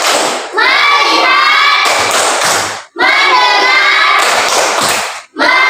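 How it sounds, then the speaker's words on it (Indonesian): In a classroom, children chant together in loud bursts while clapping along in the rhythmic tepuk fokus routine, each phrase followed by a short pause. "kita tepuk fokus dulu ya supaya lebih fokus"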